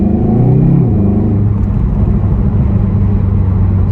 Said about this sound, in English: there is definitely more exhaust note on the outside of the car